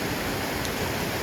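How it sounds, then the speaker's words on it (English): Waterfalls splash where two creeks meet along a high mountain trail, a steady broadband rush of falling water close by, filling the scene with constant white-noise roar and no voices. "two creeks come together with waterfalls"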